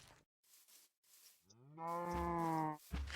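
A cow in Minecraft lets out one long, close, clear moo after a few faint scuffs and footsteps, the call swelling and holding steady before cutting off.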